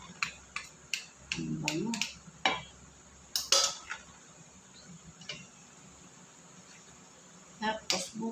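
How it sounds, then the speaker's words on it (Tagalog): Macaroni salad being mixed by hand in a bowl: scattered clicks and scrapes of a utensil against the dish, irregular and close, with a voice speaking briefly. "Haluin natin guys."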